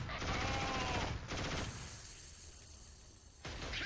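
Gunfire in the Killzone video game, dense rapid shots in bursts that pause briefly and then resume, fairly close but not loud.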